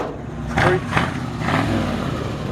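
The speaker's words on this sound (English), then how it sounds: "Give us a little rev" A 1965 Ford F100 shortbed pickup with a 390 V8 revs in a few short blips over a steady idle rumble, close by, with people talking over it.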